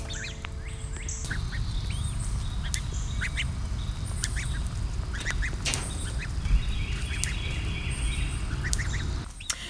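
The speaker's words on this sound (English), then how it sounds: "We have the ducks and Ed." Ducks quacking in a pen on a homestead, with a goose present, a steady stream of overlapping quacks and calls from several birds nearby, some chirps mixed in over a constant low background hum.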